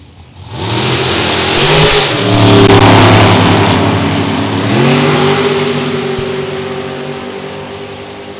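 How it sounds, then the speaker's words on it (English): Drag racing car at a drag strip launching and accelerating hard down the track, loud roaring engine climbing in pitch through gear changes, then fading gradually into the distance. "Waters out of LaGrange, North Carolina, a professional drag racer, right-hand side of the track."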